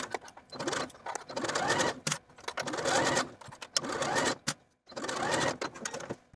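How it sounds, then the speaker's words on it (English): A sewing machine runs a zigzag stitch on a bodysuit sleeve hem in rapid mechanical bursts, pausing briefly between runs, close and clear. "Then I'm going to take it to my sewing machine and use a zigzag stitch to secure that hem in"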